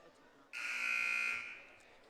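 A basketball game buzzer blares once, a loud, steady electronic tone of about a second that then fades, over quiet arena background.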